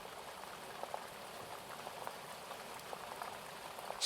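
Steady rain patters and drips continuously over a soft, even hiss, a gentle, unchanging downpour with no voices.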